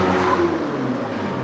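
A motor vehicle drives past outdoors, a steady engine hum with a faint rev that fades slightly over a second and a half, with no voices.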